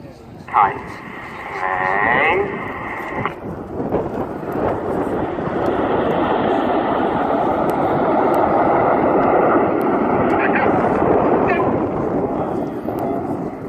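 RAF Red Arrows jets roar past in tight formation at an airshow display, a loud, broad, sustained rush of engine noise that swells and holds for several seconds, with a brief harmonic tone and wind buffeting early on.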